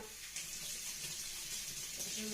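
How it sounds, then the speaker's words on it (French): A tap runs steadily as water wets the hands for sprinkling over pot-baked bread dough, a soft continuous faucet hiss heard close with no speech. "de l'eau sur les mains et je viens asperger le pain d'eau."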